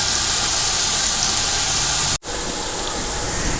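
Onions cooking in a pan for mater chawal, a steady broadband sizzle with a hiss. It runs without a break except for one sharp dropout near the end, and no voices are heard.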